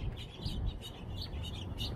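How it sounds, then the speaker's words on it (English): Small birds chirp outside an abandoned shopping mall in Tigard, Oregon, a string of faint, quick high tweets repeating over steady low outdoor rumble. "Lots of birds out today."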